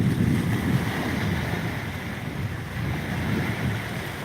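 Steady wind noise and rolling surf on open, windy water near a boat, a continuous broad rush that swells and eases slightly, loud and close with no voices.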